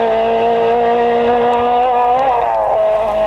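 An Opel Manta 400 rally car drives a wet stage in the rain with a steady, loud engine drone, its pitch rising briefly then settling, heard up close with no talk.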